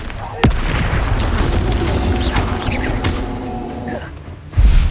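Bombarda spell blasts in Hogwarts Legacy during a fight with a troll: a sharp booming impact near the start and another at the end, with rumbling combat noise and brief voice sounds between them.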